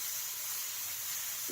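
A pressure cooker holding chickpeas in salted water lets out its whistle, a loud, steady, close rush of hissing steam lasting the whole moment.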